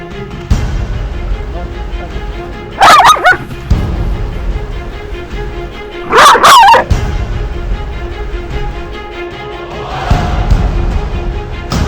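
A dog barks on command during a training session, two short loud bursts of barking a few seconds apart over steady outdoor background noise, with a fainter sound near the end.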